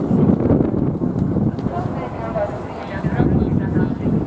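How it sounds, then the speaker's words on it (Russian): Strong wind buffets the microphone throughout at an outdoor food festival, a loud, continuous low roar with muffled voices beneath it. "Ой, какой же сильный ветер, а?"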